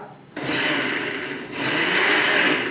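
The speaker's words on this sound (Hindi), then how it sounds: "और इसको हम पीस लेंगे ग्राइंडर में" A kitchen grinder whirs to life, blending cooked mustard greens for sarson ka saag; a steady loud motor roar with a brief dip partway through, then continuing evenly.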